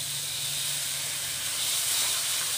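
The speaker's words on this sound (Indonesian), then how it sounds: "Ini sudah wangi, saya masukkan air asam jawanya." Tamarind water hits sautéed tempeh in a hot pan with a steady, close, bright sizzling hiss that swells slightly toward the end, with no voices.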